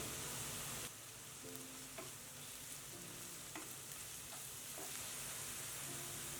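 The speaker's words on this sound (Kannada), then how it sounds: "ಈರುಳ್ಳಿ ಹಸಿ ವಾಸನೆ ಹೋಗುವವರೆಗೂ ಹುರ್ಕೊಳ್ಳೋಣ ಹೈ ಫ್ಲೇಮಲ್ಲೇ ಹುರಿಯೋಣ" Onion and green chili paste fry over high flame in a pan, a soft steady sizzle with intermittent scraping taps from stirring.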